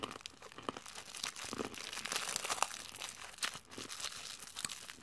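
Cheetos being chewed up close, a dense run of dry crunching and crinkly bites with no gaps, loud and steady throughout.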